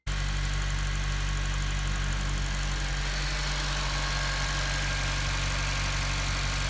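A Honda Civic Si FA5, running on a freshly replaced timing chain and tensioner, idles loudly and steadily close by, its engine drone holding an even, unbroken rumble throughout.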